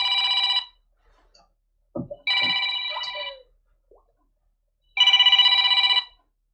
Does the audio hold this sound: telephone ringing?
yes